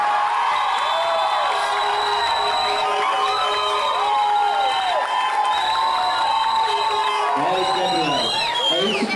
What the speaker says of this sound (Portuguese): Primeiro eu queria uma salva de palmas para eles.